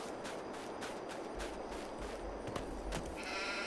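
Sheep bleat on a farm field, with a few faint calls rising over steady background noise.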